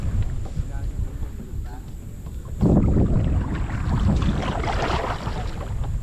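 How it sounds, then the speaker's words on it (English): A headwind gusts across the microphone while floating the Illinois River in northeast Oklahoma, a loud buffeting rumble that surges up midway and stays strong. "right off the bat, we've got a headwind right in our face."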